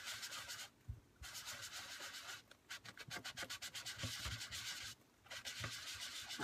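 Color is rubbed around a stencil on paper in quick back-and-forth scratchy strokes, close and faint, with short pauses between bursts of rubbing.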